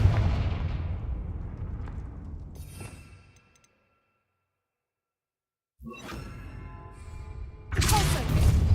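A Confringo spell blast in Hogwarts Legacy: a loud, booming explosive burst with a whooshing, rumbling tail that fades out, then silence, followed by more spell blasts and rumble.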